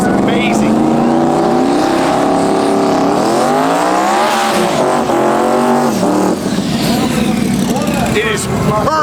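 Street cars drag racing at the TX2K 2025 drag strip, engines roaring loudly and continuously with rising and falling revs as cars launch and pass, crowd and announcer voices mixed under the noise.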